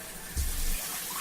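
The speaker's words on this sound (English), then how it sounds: "can someone please turn on the faucet for me?" Water running from a faucet, a brief steady rush that swells for a moment and then settles.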